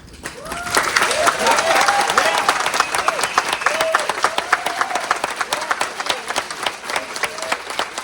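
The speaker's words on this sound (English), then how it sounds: "As you can see, the applause was crazy." A packed meeting room erupts in applause and cheering after a zoning vote denying a request at a regional planning commission, loud sustained clapping with shouts and whoops that gradually breaks into sharper scattered claps.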